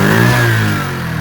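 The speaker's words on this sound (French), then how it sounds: "Donc je vais faire une accélération avec la bride." A motorcycle engine fitted with an exhaust restrictor revs up loudly close by, its note rising and then settling back, with a slightly rough, throaty tone and no voices.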